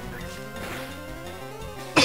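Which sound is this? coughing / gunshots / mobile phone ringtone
coughing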